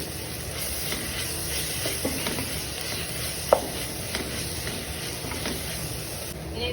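Beef being stirred in a pan with ginger, garlic and fennel paste for a Kerala-style beef roast, giving a steady low sizzle with soft scraping strokes and one sharper knock midway, no voices.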